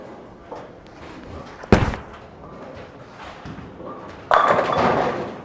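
A 4.5-inch pin Storm Absolute bowling ball thuds onto the lane and rolls, then crashes into the pins a few seconds later in an alley full of low background chatter.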